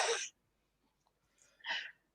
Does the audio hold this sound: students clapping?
no